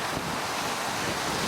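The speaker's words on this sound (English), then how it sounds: "It's very windy here today." Strong wind buffets a microphone outdoors near Hotel Plaza Boulevard at Walt Disney World, a steady broadband roar lasting briefly with no talking.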